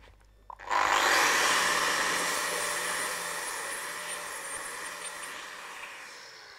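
An angle grinder bites into a weld on steel, starting with a sharp onset. It then keeps up a loud, harsh grinding whine that slowly fades as the disc works across the metal, with no talk.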